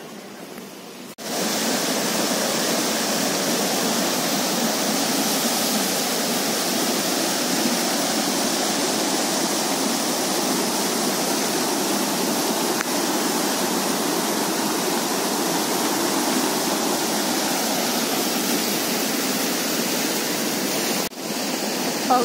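Water rushing and babbling at Tapovan in Nashik, a steady broadband flow that stays loud and even throughout, beginning after a brief quiet moment and continuing alone with no talk.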